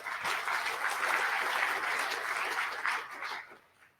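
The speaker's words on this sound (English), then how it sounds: "let's give him a round of applause before he gets started." Conference audience at a networking research workshop claps steadily for about three seconds, a moderately loud even patter of hands that fades out toward the end.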